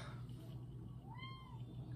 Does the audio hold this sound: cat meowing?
yes